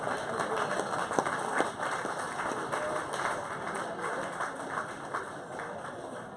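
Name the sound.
round of applause for Mr. Brash at awards dinner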